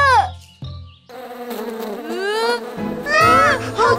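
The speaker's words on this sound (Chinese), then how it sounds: "好多蜜蜂。" Cartoon swarm of bees buzzing, a loud close drone of wavering whines swooping up and down, rising to a dense swarm toward the end.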